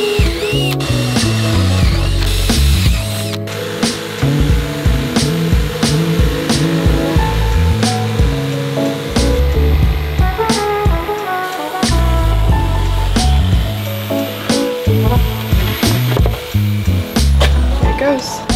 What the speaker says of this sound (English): my jigsaw to cut out the entire